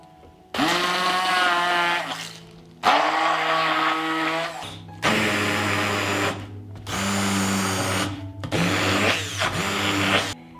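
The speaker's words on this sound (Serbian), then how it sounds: "I na kraju ću sve usitniti štapnim mikserom." A stick blender purees chicken pâté with lemon juice, salt and pepper in five loud, close whirring bursts of roughly two seconds each, the motor pitch shifting as the blade works through the mixture, separated by short pauses.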